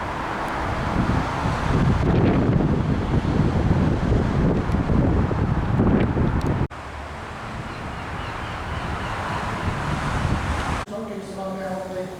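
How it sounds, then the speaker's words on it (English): Strong wind buffets an outdoor microphone with steady low rumbling gusts, dropping slightly in level partway through and continuing as a constant roar with no clear voices. "it's a bit windy to talk as well"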